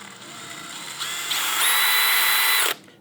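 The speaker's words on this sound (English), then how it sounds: "you're controlling the speed of the drill with your fingers" A DeWalt DCD800B or DCD805B cordless drill whirs close by, its motor whine stepping up in pitch as the trigger is squeezed to higher speeds, then cutting off abruptly.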